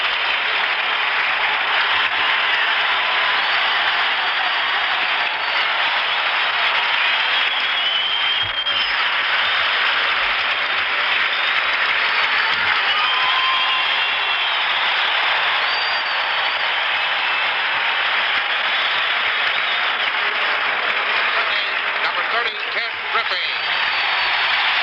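A baseball stadium crowd at a 1975 World Series game as the Cincinnati Reds take the field, a sustained roar of cheering and applause throughout, with announcers talking over it.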